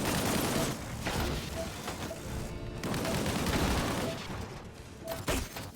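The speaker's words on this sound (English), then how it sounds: "Whoa, under fire!" Gunfire from the Disintegration video game on Outlaw difficulty: a dense fusillade of shots and bursts with booming impacts that keeps going the whole time, loud and busy throughout.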